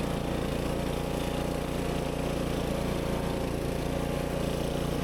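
A DR walk-behind mower cutting grass in second gear, a steady, loud engine drone with constant mechanical chatter and no pauses.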